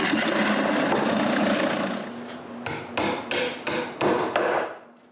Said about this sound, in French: Je retourne encore et perce les trous pour les boulons.